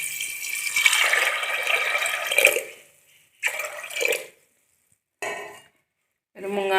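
Water is poured over chickpeas in a pressure cooker in a few splashy bursts: one long pour, then shorter pours with quiet pauses between them, close by.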